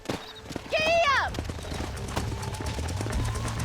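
Horses gallop in Red Dead Redemption as a wagon sets off toward the ranch, a rapid clip-clop of hooves following a loud neigh, with a voice shouting over the start.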